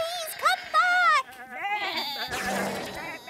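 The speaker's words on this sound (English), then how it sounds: "Sheep on the loose." A cartoon sheep on the loose bleats in a children's animated show, a few wavering high-pitched bleats in quick succession, close and fairly loud, followed by other busy sound.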